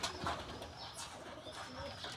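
Pet pigeons coo softly in a loft, with low burbling calls and a faint flutter against quiet background noise.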